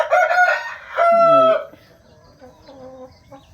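Roosters crowing on a poultry farm at night, two loud close crows in quick succession followed by fainter clucking and distant calls from other fowl.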